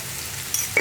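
Onions sizzling in a hot pan with a little salt as they are stirred, a steady close fry hiss with a brief scrape near the end.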